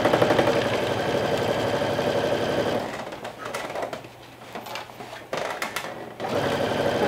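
A sewing machine runs steadily, top stitching a reversible bucket hat, its fast even whir close and loud, then breaking into shorter bursts with brief pauses near the end.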